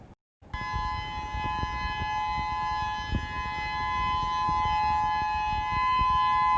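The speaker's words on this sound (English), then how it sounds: "An island-wide outdoor siren warning system that was activated on the island of Oahu yesterday" A loud, steady civil defense outdoor warning siren on Oahu, Hawaii, activated island-wide during a hurricane threat, wails continuously after a brief silence, holding a constant tone from start to end.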